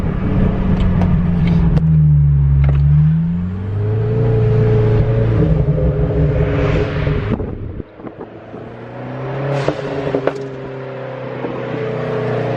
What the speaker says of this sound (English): I'll try to make it crackle a little bit right now